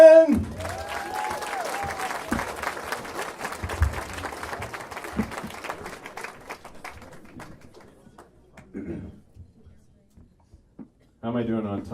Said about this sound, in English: give a big, warm round of applause for Ryan Holman!